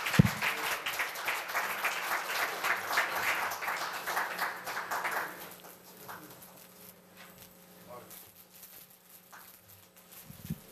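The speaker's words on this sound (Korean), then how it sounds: "큰 박수 부탁드리겠습니다." Audience applause at a university award ceremony fills the hall for about five seconds, dense and steady. It then tapers off into quiet room noise with scattered faint sounds.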